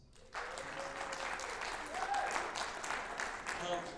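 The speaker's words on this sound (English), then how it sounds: "Pause for applause." Audience applause breaks out at a community holiday sing-along, a steady wash of many hands clapping that starts abruptly and holds for several seconds, with faint voices mixed in.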